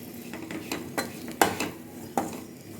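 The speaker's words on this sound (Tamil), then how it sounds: "லைட்டாக மிக்ஸ் பண்ணி விட்டுருங்க" Spoon stirring channa masala with kuzhambu masala powder in a pan, giving several light scrapes and two sharper metallic clinks against the pan, close up with no talk.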